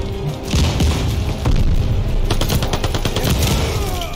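MP5 submachine gun fired in Call of Duty Vanguard during a Search and Destroy match: loud, close bursts of rapid automatic fire with booming impacts, densest in the middle and latter part.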